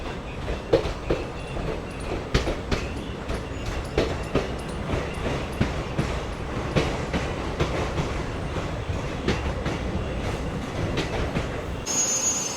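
India's hydrogen train on the Sonipat–Jind line rumbles at platform 1 of Gohana Junction, with rhythmic wheel clacks and faint squeals repeating over a steady rolling drone.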